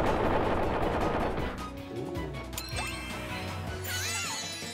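A cannon blasts in the video game Kirby and the Forgotten Land, a loud booming burst that trails off over a second or so, followed by whooshing and chiming game effects with a steady music bed underneath.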